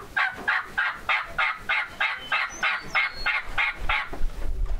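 A man imitates a wild turkey hen's yelp with his voice, giving about a dozen rhythmic, nasal yelps in an even, evenly spaced series, loud and close.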